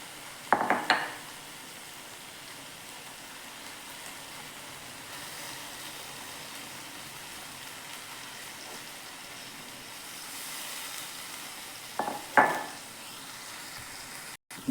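Garden purslane greens hit a hot oiled pan in a village-style Maharashtrian bhaji, a steady soft sizzle running throughout, with two brief clattering bursts of stirring, one at the start and one near the end.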